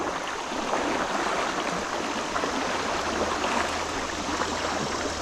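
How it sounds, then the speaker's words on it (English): Fast-flowing water of a Kentucky creek rushes steadily and loudly close by, a continuous broadband wash with no talking. "All this is pretty quick moving water."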